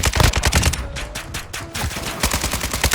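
Rapid automatic gunfire from Call of Duty: Modern Warfare 2 played in third-person view, dense bursts of loud shots with brief lulls between volleys.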